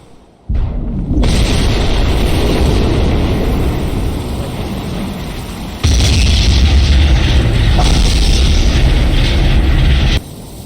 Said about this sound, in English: I'm gonna let you guys listen to the 11-second sound of the explosion that you'll hear when Mount Vesuvius erupts